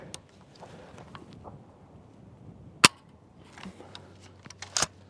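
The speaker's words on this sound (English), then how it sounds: "So let's put the last 2 rounds down range." Two gunshots from an Orca gun fired downrange, a sharp loud crack near the middle and a second burst of reports toward the end, with quiet handling noise between.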